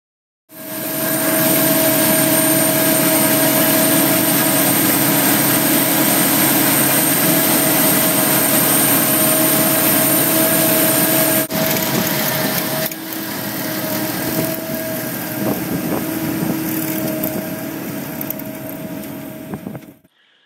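A Kleine Beetliner sugar beet harvester runs on trial, its engine and hydraulics giving a loud, steady droning roar with tonal hum for most of the clip, the sound shifting and thinning slightly after a brief break near the end.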